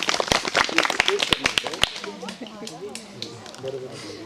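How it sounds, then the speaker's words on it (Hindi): Students in a classroom clap in a burst of sharp, scattered hand claps for about two seconds, then the clapping fades into murmuring voices and room chatter. "तालियां भाई, जोरदार तालियां"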